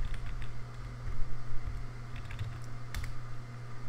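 Fingers type an ipconfig release command on a computer keyboard, quick light keystrokes clicking in a close, steady run over a low hum.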